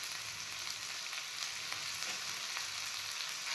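Chopped onion, carrot, green chilli and beans stir-frying in a pan for an egg roll filling, a soft continuous sizzle with faint scraping stirs, no voices.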